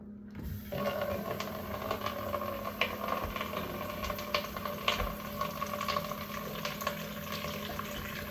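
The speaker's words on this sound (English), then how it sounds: "I'm gonna add some water to that." Water poured into a pot of mashed potatoes, a steady splashing, gurgling rush with small bubbling bursts that runs close and continuous for several seconds, no talking over it.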